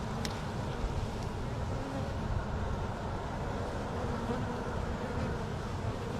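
A dense, steady hum of many bees buzzing close by, a continuous drone with no pauses.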